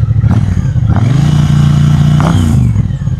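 A loud Triumph Bobber Stealth Edition motorcycle exhaust, 1200cc liquid-cooled engine, rumbles at idle, then revs up and settles back into a deep, throbbing burble, recorded up close with no talking.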